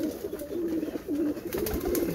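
A flock of about forty pigeons coos at sunset, low, throaty calls repeating in a steady stream close by, with no voices.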